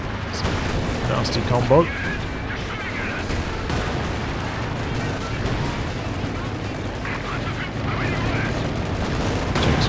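Artillery shells from a Scott barrage land in Company of Heroes 2 as dull booms and rumbling impacts. A busy battle din of gunfire runs beneath them, and a commentator talks over the whole stretch.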